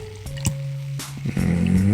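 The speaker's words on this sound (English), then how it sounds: "easy with that pour there" Beer pouring into a 16-ounce pint glass, a close liquid trickle with a few drips and splashes that grows into a fuller, steadier glugging stream toward the end.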